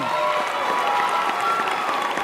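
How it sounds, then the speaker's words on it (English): Audience applause after a live music performance, moderately loud and steady, with sustained tones ringing underneath and a faint voice mixed in. "Come on, keep the applause going."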